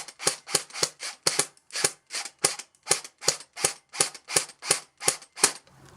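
A budget airsoft rifle, AK or M4 style, fires BBs in about fifteen sharp, close, evenly spaced single shots, each a crisp snap, with no talking.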